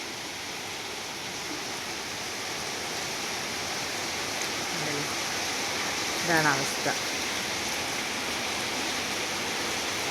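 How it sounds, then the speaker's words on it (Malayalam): Heavy monsoon rain pours steadily, a dense, even hiss filling the whole clip, while a person speaks briefly over it. "നല്ല മഴയാണ്"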